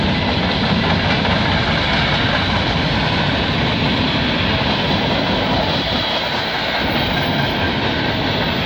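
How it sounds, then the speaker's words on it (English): CN freight train carrying ethanol passes at Mile 32 of the Oakville Subdivision, giving a loud, continuous, close rumble and roar of rolling railcars. "I believe we've got ethanol on this train."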